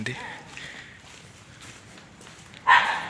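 A dog on an outdoor route near Cuttack station lets out one loud, close bark near the end, after a stretch of low street noise with faint background voices.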